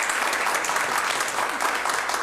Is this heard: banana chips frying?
no